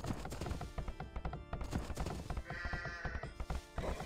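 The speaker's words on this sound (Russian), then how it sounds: "И ты хочешь моих овец тронуть?" Sheep bleat in the Age of Empires II strategy game, short calls mixed into busy game sound effects and background music at a steady moderate level.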